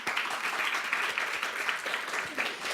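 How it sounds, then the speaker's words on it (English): An audience at a student presentation symposium claps for the presenters in dense, sustained applause that stays steady throughout. "Let's give another round of applause for all of our presenters."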